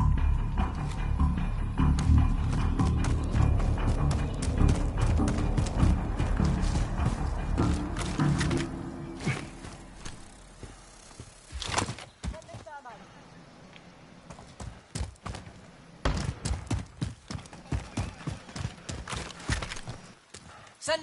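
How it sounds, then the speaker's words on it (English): Horse hooves clip-clop in a Call of Duty Warzone trios match, a fast rhythmic patter mixed with game ambience and broken by sharp gunfire-like bursts, while players talk over it. "Horse."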